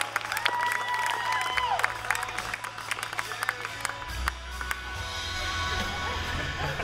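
Audience applause and cheering at a fair illusion show, a Lady Houdini living illusions performance at the 2016 W.C. Fair, with dense sustained clapping, scattered whoops and crowd noise under a low steady hum.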